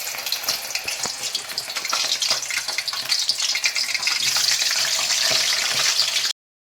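Banana slices deep-fry in hot oil for chips, giving a loud, dense, bubbling sizzle that runs steadily and then cuts off abruptly.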